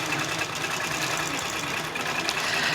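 A sewing machine stitching a feather design across a quilt top runs in a close, continuous mechanical whir with a fast, even stitching rhythm and no break.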